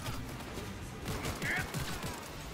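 Automatic weapon fire in the video game Cyberpunk 2077, a dense burst of rapid shots under continuous game noise, loud and close, with talking over it.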